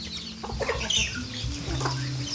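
Several chickens cluck close by in short, irregular bursts over a steady low background hum.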